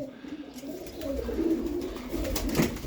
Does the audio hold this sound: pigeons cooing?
yes